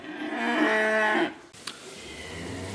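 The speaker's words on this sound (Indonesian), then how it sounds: "16 ekor sapi siap menuju Kota Tangerang" Cattle among a group of sixteen yearling cows bound for Tangerang give one long, loud, close moo with a rich harmonic tone, followed by quieter shuffling and a brief knock.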